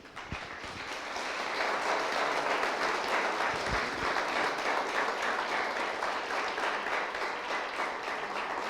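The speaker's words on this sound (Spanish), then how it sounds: "Dele un aplauso al Señor." Congregation applauding during a Sunday church service, clapping that rises after a second and holds as a broad, steady wash of hands.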